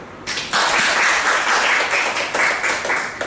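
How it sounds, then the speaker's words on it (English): A crowd at a Toastmasters club meeting breaks into steady, sustained applause, many hands clapping together loudly for a few seconds. "everyone to clap your hand"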